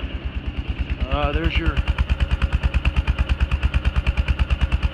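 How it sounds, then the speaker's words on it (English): A 2008 Kawasaki Prairie 360 4x4 ATV engine idles steadily nearby, its exhaust giving an even, rapid thumping pulse throughout, with someone speaking briefly over it. "No weird noises with the motor. Actually, it really runs very, very well."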